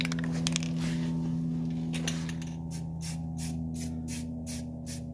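Spray painting suspension parts on a 1979 Mercedes 300SD: a series of short, regular hissing spray bursts, about seven in a row, over a steady low background hum.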